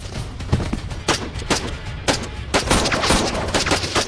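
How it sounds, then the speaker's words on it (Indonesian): Gunfire from an action film fight scene, a rapid series of loud, sharp shots in irregular bursts filling the whole stretch, some overlapping into dense volleys. "Maria menembak anak buah Caleb yang melindunginya."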